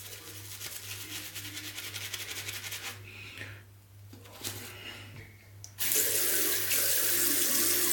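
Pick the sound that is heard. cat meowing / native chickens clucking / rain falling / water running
water running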